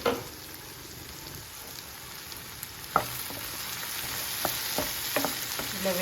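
Capsicum fries in a pan on a low stove flame, giving a steady close sizzle broken by several sharp scrapes and clacks of stirring, with no talking.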